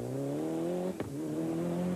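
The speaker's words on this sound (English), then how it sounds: "Mark Courtney is enjoying his new 4-wheel drive car immensely" Group A four-wheel-drive rally car on a Monaghan Stages Rally stage, its engine droning loud and close with steady harmonic tone, a sharp gear-change dip midway and another near the end.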